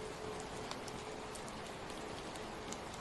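Steady rain falling in a rainforest, heard from shelter beneath a broad wooden roof: a continuous, even hiss of drops with faint scattered patters, soft and unbroken throughout.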